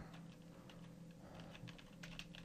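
Soft, faint keyboard typing on a Windows 7 computer, a few light, scattered key clicks nearly buried under a steady background hum.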